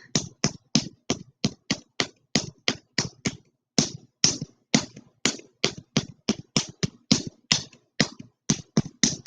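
A spoon taps against the side of a lid held flat in the hand, giving crisp, close, evenly paced knocks, about twenty-five in a row with short pauses between groups.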